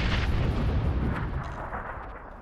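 Heavy gunfire in the video game PUBG, a dense, loud burst of booming shots and rumble that tails off slightly over a couple of seconds.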